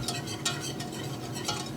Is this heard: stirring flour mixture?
yes